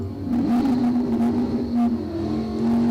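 Drag racing cars in Can-Am Stock/SuperStock quarter-mile time trial qualifying at Empire Dragway, a steady loud engine drone with a sustained low tone and rumble, no talk.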